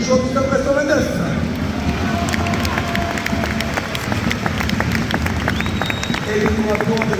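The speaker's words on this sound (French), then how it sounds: "un maximum d'applaudissements pour les joueurs du Stade Brest 29" Stadium crowd at a Stade Brestois football match applauding the Brest players, a dense continuous roar of clapping and cheering with scattered sharp claps, steady and loud throughout while a voice speaks over it.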